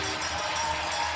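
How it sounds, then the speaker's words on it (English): Crowd at a women's professional hockey game in a Montreal arena roars in a sustained, dense wash of cheering after a big hit, loud and continuous for the whole moment. "The crowd going insane on that one"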